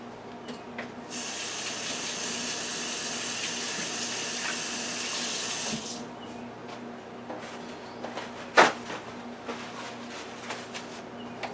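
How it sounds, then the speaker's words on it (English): Running tap water pours steadily into a sink as hands are washed for about five seconds, then shuts off, followed by quiet kitchen room noise and a brief clink. "let me wash my hands"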